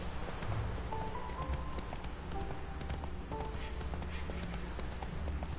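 Horse Roach's hooves clip-clop steadily at a walking rhythm in The Witcher 3, under continuous game ambience and a low background hum.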